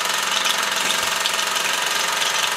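A small SE2A model steam engine runs steadily, spitting excess water from its exhaust as it starts, giving a continuous close hiss with a faint, busy mechanical chatter and no talk.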